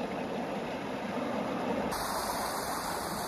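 Steady rushing water roars continuously, like a waterfall on a river, broadband and unbroken, with no voices.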